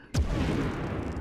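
Grenade explosion in the first-person shooter Medal of Honor on PS1, a single sharp loud blast followed by a rumbling decay.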